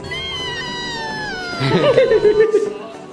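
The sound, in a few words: woman imitating a fierce cat meow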